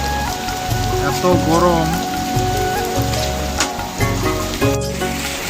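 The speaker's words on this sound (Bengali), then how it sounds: "কত বৃষ্টি, কত শিল পড়ছে দেখুন ভালো করে বন্ধুরা।" Heavy rain with hailstones pelting down during a Kalbaishakhi pre-monsoon storm, a dense steady patter close by, with a voice speaking briefly over it and a mid-clip tonal sweep.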